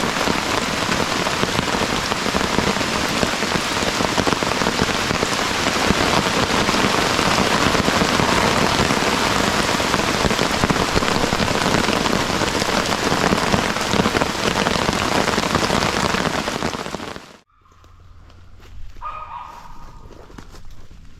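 Heavy rain pours steadily onto a tarp shelter at an overnight camp during thunderstorms on the Appalachian Trail, a loud dense roar that cuts off abruptly near the end, leaving faint quiet ambience.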